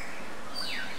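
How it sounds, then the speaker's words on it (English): Birds sing on a still tropical North Queensland morning, a bright high whistling call rising and gliding near the end over a soft steady background hum, no one talking. "all the birds are out, and absolutely bloody beautiful morning here"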